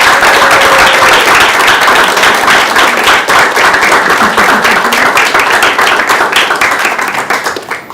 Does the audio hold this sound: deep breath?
no